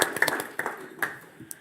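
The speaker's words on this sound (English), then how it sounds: "Round of applause, everybody, for our awesome water." A small group at a City of Allegan council meeting claps briefly, a handful of sparse, distinct hand claps in an indoor room that quickly thin out.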